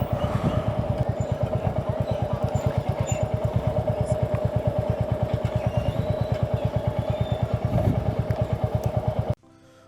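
A motorcycle idles close by in a steady, rapid thumping rhythm as the bike is parked, then the engine cuts off abruptly near the end.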